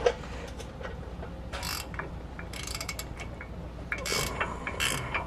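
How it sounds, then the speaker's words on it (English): A wrench works on the 18mm upper ball joint nut of a 2014-2018 Silverado truck during a lift install, giving short bursts of metallic ratcheting clicks in several quick spurts over a steady low background hum. "Now we're going to remove the 18mm nut that's holding the top ball joint into the knuckle. So first we're just going to break that free."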